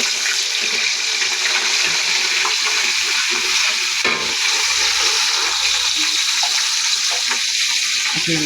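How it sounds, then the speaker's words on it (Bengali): Rice tipped into a hot pot already holding garam masala and ginger paste gives a loud, continuous sizzle and hiss, with a few small scraping knocks along the way. "চাল ঢেলে দিলাম"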